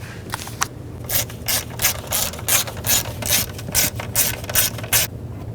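A ratchet snugs down a spark plug on a 2010-16 Buick LaCrosse, a close run of quick rhythmic clicking strokes repeated about a dozen times, with no talking.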